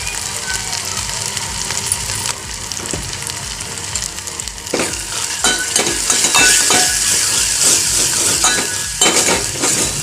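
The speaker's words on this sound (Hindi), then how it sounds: "सभी चीज़ों को थोड़ा भूनेंगे अच्छे से" Spices sizzle and fry loudly in a pan while a utensil stirs and scrapes through them, giving a continuous crackling hiss with repeated clatters, close up and with no talking.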